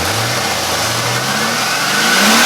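A Camaro Z28 engine, neglected for five years and now running, revs up from a smooth idle, its rising engine note climbing steadily and loudly with no talk over it.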